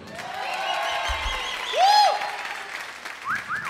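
Audience applause at a concert greeting a band member, a steady crowd clapping texture under stage sound and whistle-like tones, swelling briefly in the middle.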